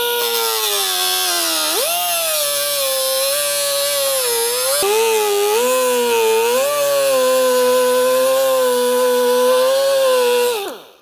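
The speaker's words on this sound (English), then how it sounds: "We're just using a small pneumatic cutoff wheel here." A small pneumatic cutoff wheel grinds through a truck bumper on a 2nd gen Toyota Sequoia, a loud continuous high whine whose pitch sags and recovers under load before spinning down at the end.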